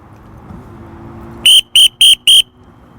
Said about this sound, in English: Second one is a whistle.